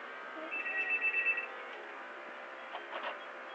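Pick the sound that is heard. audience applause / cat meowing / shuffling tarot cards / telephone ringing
telephone ringing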